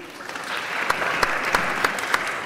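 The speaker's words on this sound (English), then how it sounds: "Round of applause, please." Applause from the audience at a ministerial and CEO round table, a steady clatter of many hands with a few sharper, louder claps standing out near the front.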